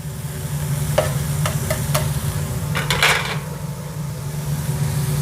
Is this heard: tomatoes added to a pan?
yes